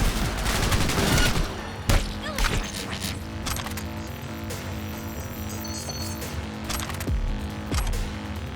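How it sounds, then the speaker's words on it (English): Bursts of gunfire in the video game Cyberpunk 2077 crackle loudly over a dense game soundtrack, with sharp volleys in the first two seconds and more isolated shots later in the stretch. "Heard shots"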